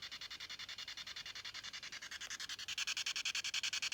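A PSB7 spirit box radio sweeps backward through stations very fast, making a rapid rhythmic hissing pulse of static bursts, close and steady with no voices.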